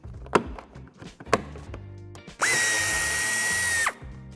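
A power drill spins up in one steady, loud whine lasting about a second and a half, backing out screws that hold the bumper of a Tesla Model, with a few sharp knocks and clicks of handling before it starts.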